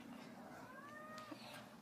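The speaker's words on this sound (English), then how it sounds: "this cat is really annoying" A cat gives a single drawn-out meow that rises and falls, faint over a steady background hum.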